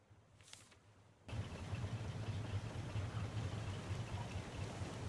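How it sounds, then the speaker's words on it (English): Forty engines on a raft in the video game Raft. After a brief quiet moment, a steady mechanical drone cuts in abruptly and holds, even and constant, to the end. "Testing the raft speed with 40 engines now."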